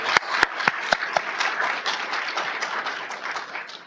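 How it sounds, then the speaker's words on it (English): Applause for youth commissioners at a city council meeting: a few sharp, close claps ring out first, then a crowd's clapping swells into a steady round before easing off. "one more round of applause for our youth commissioners"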